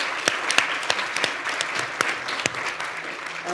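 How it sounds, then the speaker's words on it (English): A full round of applause from an audience at an afternoon session on restorative justice in Indian Country, dense clapping with a few sharp individual claps standing out close by. "I'm going to ask for one more round of applause"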